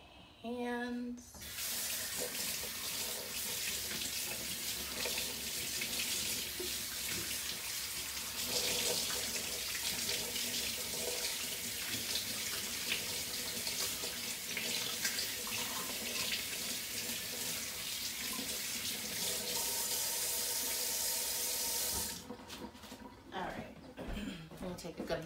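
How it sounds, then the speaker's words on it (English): Water from a tap runs steadily and loudly while hands are rinsed, a continuous broadband rush lasting about twenty seconds before cutting off, with some handling noise at the end. "just gonna rinse off my hands."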